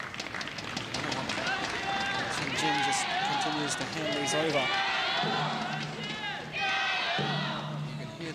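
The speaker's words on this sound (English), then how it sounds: "You can hear that support in the crowd" Badminton crowd at the 2012 Swiss Open men's singles final cheering for Chen Jin, a dense roar of voices and claps throughout, with a commentator talking over it.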